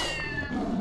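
A single short, high kitten meow from a Scribblenauts Unlimited game creature, loud and close over a busy background.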